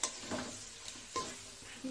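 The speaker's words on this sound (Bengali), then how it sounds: "এই যে জল দিয়ে দিলাম" Water poured into a hot pan of fried spice paste brings a soft, close sizzle and bubbling hiss, broken by a few brief stirring scrapes, all fairly quiet with no talk.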